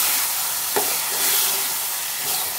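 Tomato and brinjal curry sizzles and fries in a pan while being stirred, with one sharp scrape of the spoon early on and a steady close hiss underneath, no talking.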